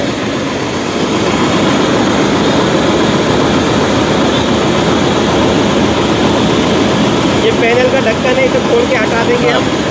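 Tractor-attached concrete mixer engine starts and settles into a loud, steady mechanical roar that runs continuously throughout, with a voice talking faintly beneath it.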